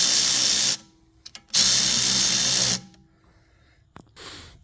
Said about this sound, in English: So remove these 6 bolts.